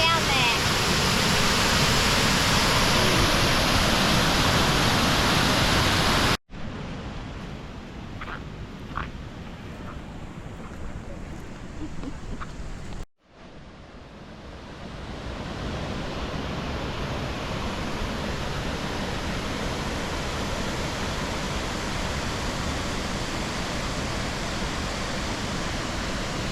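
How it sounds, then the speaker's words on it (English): A waterfall in a rocky gorge along the Gibb River Road in Western Australia roars as dense, continuous broadband noise, loud and close, with a quieter stretch in the middle where the rush sounds more distant; no talking. "Look at the waterfall next to me"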